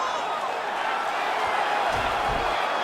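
A crowd in the UFC 5 fighting game roars and applauds after a grappling exchange, a dense continuous wash of cheering that stays level and loud from start to finish.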